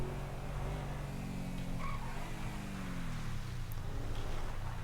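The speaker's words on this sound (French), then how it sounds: "elle roule vachement vite la voiture" A car in a video game races at high speed, its engine droning steadily while tires skid and squeal through a sweeping slide, with no talk over it.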